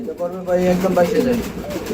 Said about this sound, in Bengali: ব্ল্যাক কালারের মধ্যে মন্ডি কবুতর জুড়া